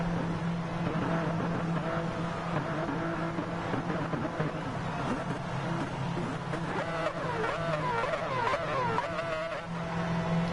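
Race car engines in Gran Turismo Sport, a steady, constant drone of several motors through a whole race stretch, with rising and falling engine tones near the end.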